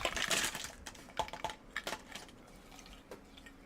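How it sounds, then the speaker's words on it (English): Ice cubes clatter and clink into a cup in a quick burst, followed by a few scattered lighter clinks as they settle. "And we're going to add some fresh ice."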